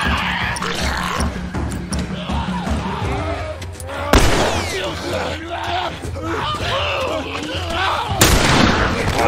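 Gunfire aimed at a clicker in The Last of Us Remastered, with sharp loud shots bursting out around the fourth and eighth seconds over a constant game soundscape of music, growls and screeches, while someone talks throughout.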